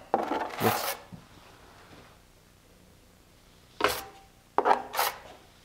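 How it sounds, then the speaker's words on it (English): A drywall trowel scrapes and wipes joint compound over tape on drywall in several short bursts, a rasping scrape near the start and two more close together near the end, separated by quiet pauses. "Oh, I just dug that in with my trowel."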